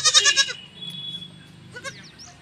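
A young lamb bleating: a loud, close, wavering bleat at the start, then a quieter hum-like pause and a second shorter bleat near the end.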